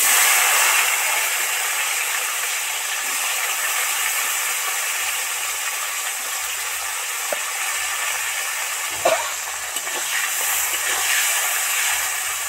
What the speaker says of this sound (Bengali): এবার ঢেঁড়সগুলো ছাঁকা তেলে ভেজে নেব